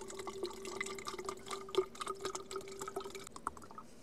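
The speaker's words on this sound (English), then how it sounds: "it's going right in my water bottle" Filtered river water pouring steadily into a water bottle outdoors, a soft continuous trickle with small splashes and drips, close and fairly quiet, no talking.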